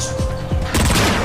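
A short burst of rapid gunfire and booms from the Transformers: Fall of Cybertron video game, loud and close, with a few sharp shots followed by a heavier blast.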